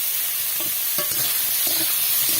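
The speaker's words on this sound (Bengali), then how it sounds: "পটলগুলোকে একটু ভাজা ভাজা করে নেব" Pointed gourd (potol) fries in hot oil with a constant close sizzle, while a spatula stirs and scrapes the pan in several short strokes; no voices.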